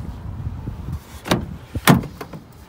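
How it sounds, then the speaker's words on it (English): Door of a 2014 Toyota Tundra SR5 double cab pickup being opened, giving two sharp close clicks and latch clunks over quiet outdoor background. "Let's open the door up so you can see."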